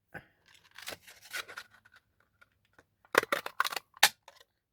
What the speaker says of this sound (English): I'm going to use the big daisy punch for the Seaside Spray.